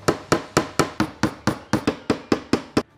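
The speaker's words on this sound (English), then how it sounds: "we're gonna fasten them down with these little nails that come with the kit" About a dozen light, sharp hammer taps driving small kit nails to fasten strips onto a custom Star Wars display case, evenly spaced and close, with no voices.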